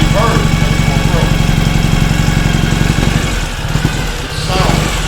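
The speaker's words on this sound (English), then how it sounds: "The thing about a louder exhaust, like I mentioned earlier, you have more power, but you also can be heard much more" A 2017 Ural Gear Up sidecar motorcycle with a loud aftermarket exhaust idles steadily indoors in a showroom, a deep, continuous rumble with a brief dip near the end; someone talks over it.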